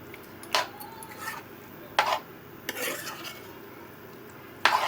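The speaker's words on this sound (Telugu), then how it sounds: "సో ఇట్లా మొత్తం కలిపేస్తున్నా." Yogurt chicken curry stirred in a pan with a spoon: several scraping strokes against the metal at irregular intervals over a soft sizzle, close and moderately loud, no voices.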